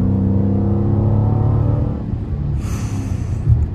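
A Dodge Scat Pack's engine revs hard under heavy throttle, a loud, close, rising rumble with harmonic growl that holds, then eases slightly near the end.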